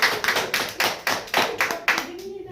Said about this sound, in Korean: 우리 다 같이 한번 박수합시다.